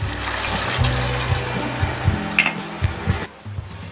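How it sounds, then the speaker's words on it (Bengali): Potatoes coated in poppy seed paste are stirred in a pan over low heat, with soft scraping strokes and a gentle sizzle repeating every half second or so, close up, with no talking. "আমি একটু নেড়ে চেড়ে একটু কিছুক্ষণ দমে রাখবো।"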